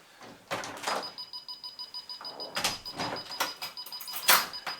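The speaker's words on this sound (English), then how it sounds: "I'm going to open the back door." A back door is opened in a house with an Arduino-built burglar alarm armed, giving a run of close clicks, rattles and knocks, while faint steady electronic tones from the alarm sit underneath.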